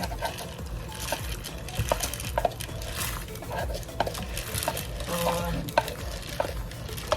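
Job's tears grains tumble into a pot of boiling water, followed by steady bubbling and stirring, with soft knocks against the pot, close and continuous.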